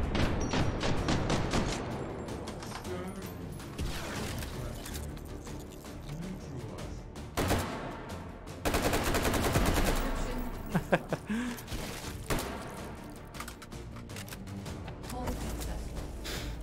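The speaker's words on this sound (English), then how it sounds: "Nothing but explosions." Dense bursts of automatic gunfire and explosions in the VR shooter game H3VR, with rapid rattling volleys, sharp blasts and brief lulls following one another loudly and almost without pause.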